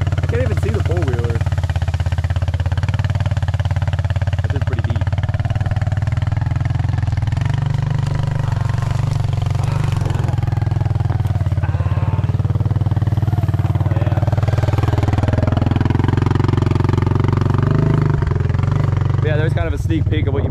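Four-wheeler engine running steadily in a field of very tall grass, a loud low rumble throughout with slight shifts in pitch, while a person talks over it.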